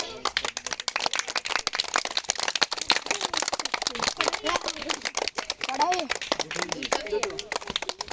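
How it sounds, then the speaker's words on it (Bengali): Children clapping their hands at a school sports event, a dense crackle of many small claps running steadily throughout, with voices calling out over the applause. "এই হাততালি দাও হাততালি দাও হাততালি দাও"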